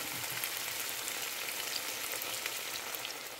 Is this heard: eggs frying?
yes